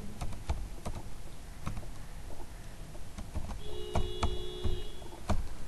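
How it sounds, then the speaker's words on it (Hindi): Steady typing on a computer keyboard, a run of light, quick key clicks with irregular rhythm, heard close and alone without talk. "अब मैं लिखता हूँ प्राइस ब्लिंक"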